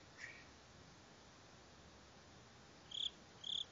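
A few short, high cricket chirps in the video game Slender: one faint near the start, then two clear chirps close together near the end, over a quiet background hiss.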